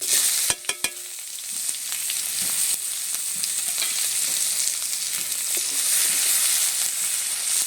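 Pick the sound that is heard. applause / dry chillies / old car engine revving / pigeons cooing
dry chillies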